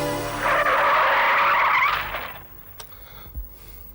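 A police car brakes hard to a stop, its tires skidding in a loud, sustained squeal for about a second and a half that cuts off, followed by a couple of faint thumps as it settles.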